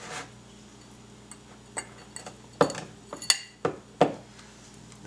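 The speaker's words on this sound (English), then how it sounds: "we're going to pop out a nice big cube of ice. Drop in a couple burnt wedges" A large ice cube and a couple of burnt blood orange wedges drop into a cocktail glass for a bourbon drink, giving several separate glassy clinks and knocks, close and crisp, spaced out one by one with quiet between.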